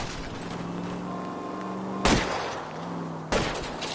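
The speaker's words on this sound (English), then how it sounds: "I'll try to shoot out his tires." Two sharp gunshots from a pistol aimed at a fleeing car's tires in the video game L.A. Noire, loud and close, each cracking out over a steady engine drone during a car chase.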